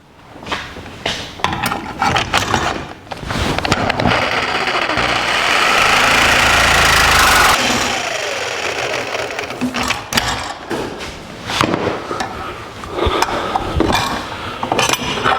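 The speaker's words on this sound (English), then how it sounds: "I'm going to use the saber saw to cut from this line over to this cut, and I'll separate the two pieces" A saber saw rattles steadily as it cuts through a metal piece for a drive shaft loop on a 1949 Chevrolet gasser, its loud reciprocating buzz rising and falling with bursts and pauses throughout.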